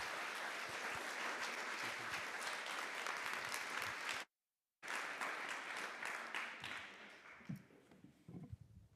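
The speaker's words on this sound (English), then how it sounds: "Let's give an energizing round of applause to Clyde." A conference audience at a plenary session in Vienna applauds a speaker after a talk on superblocks and urban transformation: loud, dense clapping with a brief gap, then thinning into scattered claps and small noises.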